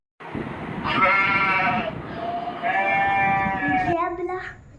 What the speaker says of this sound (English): Sheep, भेड़.